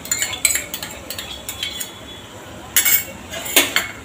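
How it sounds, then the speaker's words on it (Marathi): A spoon clinking against a metal bowl while stirring whisked yogurt, bursts of quick scraping taps in uneven clusters with brief pauses, close and fairly loud with no voices. "दही पण छान असं मिक्स करून घ्यायचं"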